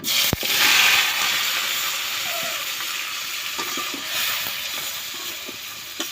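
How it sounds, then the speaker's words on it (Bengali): Marinated broiler chicken dropped into hot oil in a wok, a sharp impact followed by a steady, loud broadband sizzle and hiss with small spatters and crackles continuing throughout. "তেল গরম হসে এখন মাখে লোয়া গোস্তের মধ্যে হেলে দেবো"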